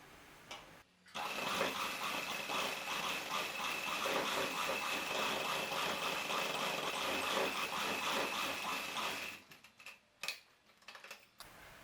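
A sewing machine runs steadily for about eight seconds, stitching down a belt on a dhoti salwar, a close, continuous whirring rattle that stops abruptly and gives way to a few handling clicks.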